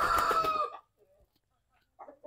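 A single loud chicken call from a small backyard poultry flock of pure and crossbred heritage birds, close and clear, fading after under a second into near silence with a faint stir at the end.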